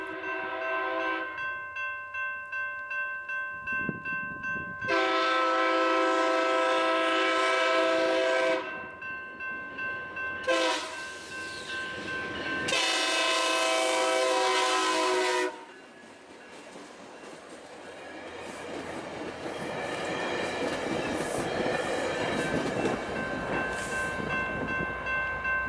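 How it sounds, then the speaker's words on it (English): A New Mexico Rail Runner passenger train in Bernalillo, New Mexico, sounds several loud, long horn blasts with short gaps between them, then rumbles past close by with steady rolling wheel noise. "where I would meet up with Railroad Train 703 coming out of its station stop in downtown Bernalillo"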